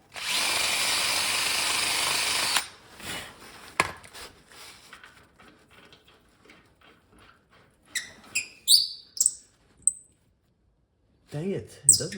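A power drill drives a part onto a hitch being built for a Massey Ferguson 35 tractor, with a loud sustained whir for about two and a half seconds, then scattered clicks, scrapes and short bursts of handling noise.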